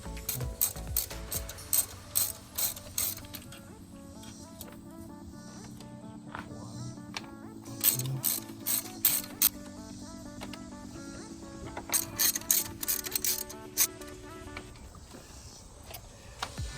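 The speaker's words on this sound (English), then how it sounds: "we're gonna need 11 millimeter. 11 millimeter socket. And then we're just gonna take them off." Ratchet with an 11 mm socket loosening valve cover bolts on a BMW N54 engine, rapid clicking pawl bursts repeated in several close, crisp runs between brief pauses.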